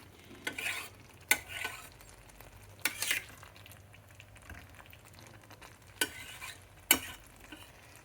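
Paneer tikka masala cooks in a pan after kasuri methi goes in. A gentle bubbling sizzle runs underneath as a spoon scrapes and taps against the pan in a few sharp, separate strokes, close up with no speech.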